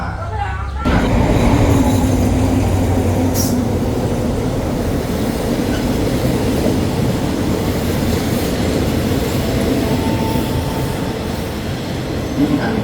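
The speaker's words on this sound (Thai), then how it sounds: "ขบวนรถที่นี้ออกจากสถานีปากคลองไปแล้ว" A Thai passenger train pulls out of Pak Khlong station on the southern line, a steady loud rumble of wheels and carriages rolling continuously throughout, with faint talk in the background.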